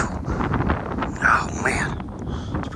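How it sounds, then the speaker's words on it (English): Cold wind gusts buffet a microphone outdoors on a cloudy winter day, a rough low rumble throughout with a brief whistling swell in the middle. "That wind keep blowing."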